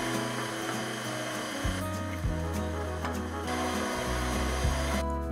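A stand mixer with a whisk attachment runs at medium speed through butter, sugar and eggs, a steady droning motor hum with a gritty whirr. Its pitch shifts slightly a few times and light knocks sound against the bowl.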